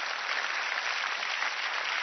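Dense, even studio audience applause at a TV comedy show, continuous and fairly loud throughout the short stretch.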